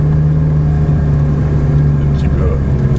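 A Ferrari 458 Italia on the Le Luc circuit hums with a steady mid-pitched engine drone heard from inside the car, while people talk over it.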